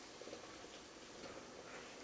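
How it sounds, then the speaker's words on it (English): A pot of water at a rolling boil, a faint, steady bubbling hiss without pauses and with no one talking. "now that our water has come to a good rolling boil"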